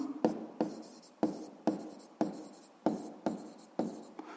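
Pen writing an equation on paper during a physics lesson, in close, quiet, regular strokes, about eight scratchy bursts each ending abruptly, with no voice heard.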